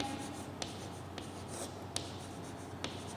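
Chalk or marker writing on a board in a chemistry class makes a quiet, steady scratching and stroking, with a few faint taps as strokes begin, over soft room noise.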